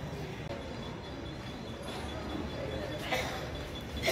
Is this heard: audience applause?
no